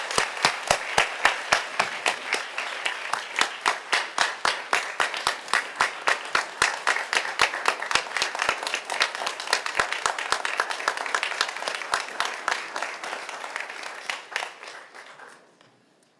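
Audience applause after a city council swearing-in ceremony in Birmingham, sustained rhythmic clapping from a group that keeps an even pace for about fourteen seconds, then thins and fades out at the end.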